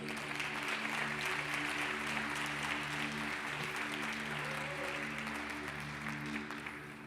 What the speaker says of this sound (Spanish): Le das un aplauso a Dios por eso.